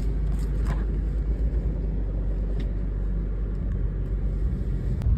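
A car being driven out, heard as a steady close low engine rumble with road noise lasting the whole stretch, with no one talking.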